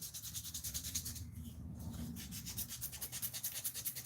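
A sword blade is hand sanded in a rapid, rhythmic back-and-forth scrubbing, close and fairly quiet, with steady strokes throughout.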